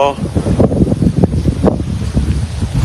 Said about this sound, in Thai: ลมแรงเช้านี้ครับ